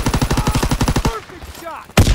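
Rapid automatic gunfire from a machine pistol or M1 carbine in Call of Duty: WWII multiplayer, a loud steady burst of close shots that stops abruptly, followed by brief quiet and a sharp final impact.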